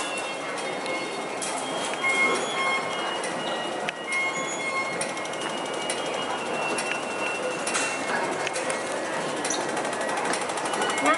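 A Hong Kong public transport train rumbles along steadily with wheel squeal and metallic rattling, heard from inside at close range, continuous and fairly loud throughout.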